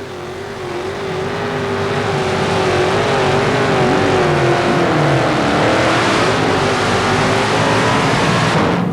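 A Chevrolet four-wheel-drive pulling truck runs during a truck pull at Tampa Stadium in 1991. Its loud engine roars near, climbing in pitch and holding a sustained high-revving drone with a slight waver.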